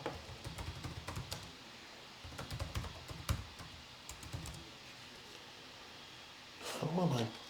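Computer keyboard typing in a quiet ASMR setting: close bursts of soft clicking keystrokes, separated by brief pauses, with a fuller rustling burst near the end.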